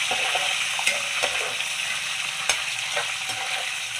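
Pulihora tempering of green chillies, chana dal and peanuts sizzling in oil in a pan, a dense continuous fry with periodic scraping clicks from stirring.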